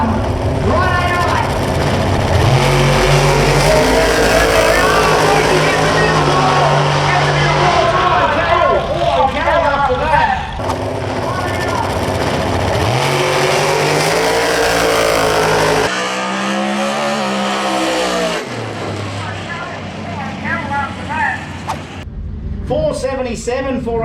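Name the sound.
drag racing cars launching down the track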